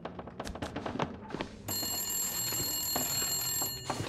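A telephone rings inside a building in the survival video game The Long Dark, Blackrock area, a sustained electronic bell tone that starts partway through and rings steadily over footsteps and movement clatter.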